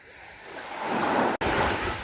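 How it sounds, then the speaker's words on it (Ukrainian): Gentle sea waves swell and wash softly onto the shore, a single slow surge of surf with light wind. "Море спокійне, спокійне."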